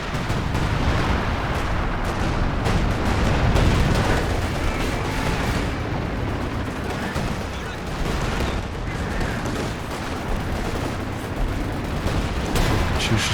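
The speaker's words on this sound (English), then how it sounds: "Taking sector artillery." A sector artillery barrage in Company of Heroes 2 pounds continuously as dense rumbling blasts and gunfire, with a commentator talking throughout over the battle noise.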